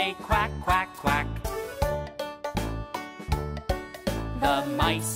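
A farm animal puzzle toy plays a recorded duck quacking in a rapid series of loud, nasal quacks over a jingly electronic tune, with no speech.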